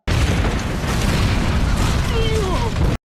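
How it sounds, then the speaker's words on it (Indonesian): A huge RV explosion in the film Paul, set off by a lit stove inside, a loud sustained booming roar with crackling debris and rising whistling tones, filling the whole stretch before cutting off abruptly. "ledakan dahsyat terjadi"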